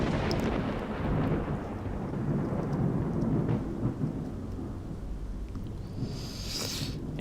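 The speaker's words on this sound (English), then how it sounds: "that thunder and lightning is fantastic" Thunderstorm in the game S.T.A.L.K.E.R.: Lost Alpha: a long, loud rolling thunder rumble over steady heavy rain, fading slightly toward the end with a brief crackle, no voices.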